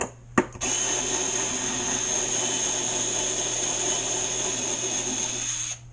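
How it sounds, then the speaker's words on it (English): A power drill spins steadily with a high, constant whine lasting several seconds, starting and stopping abruptly after a brief click at the start, while installing the strut on an RC gas boat. "A lot faster with a drill"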